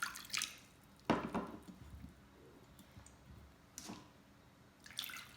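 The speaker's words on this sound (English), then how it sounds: "I'm going to add in probably about 1 inch of water here." Water is poured into a baking dish holding halved Hokkaido pumpkin, heard as a few soft, irregular splashes and drips spaced across several seconds, faint and close with quiet gaps between.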